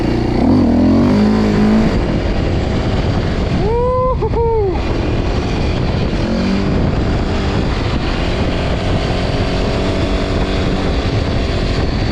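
Suzuki LTZ400 quad engine revving and accelerating, a loud continuous engine roar that fills the whole stretch with shifting pitch, with a brief rising whine partway through.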